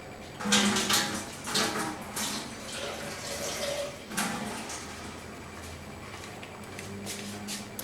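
Water poured from a container into a pot of cooking pea lentils (mutter ki daal) in a home kitchen, a steady splashing pour that swells at the start and continues evenly throughout, with brief clatters of utensils.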